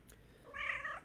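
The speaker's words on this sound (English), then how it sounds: "My cat has to say something." A house cat lets out a single short meow, faint and somewhat distant, rising and falling over about half a second in a quiet indoor room.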